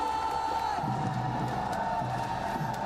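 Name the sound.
arena crowd cheering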